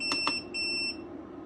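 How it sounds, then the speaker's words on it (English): A Growatt SPF 3000TL LVM-24P inverter gives two short, high electronic beeps in quick succession, then one longer tone, fairly faint against a low hum. "There's no way to turn off this beeping"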